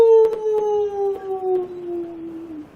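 A wolf gives one long, loud, sustained howl that slowly falls in pitch before fading out, close and alone with no voices.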